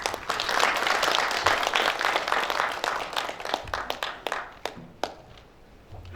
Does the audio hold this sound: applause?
yes